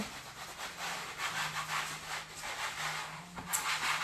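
Wax is rubbed in with circular strokes, making a continuous soft swishing rub that swells and fades with each pass, close and fairly quiet; no talk.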